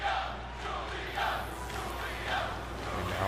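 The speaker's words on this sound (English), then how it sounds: "And now the crowd chanting for Julia here in this matchup" A large arena crowd at a professional wrestling event chants together in a loud, sustained, rhythmic roar that swells and dips over a few seconds, with no clear voices standing out.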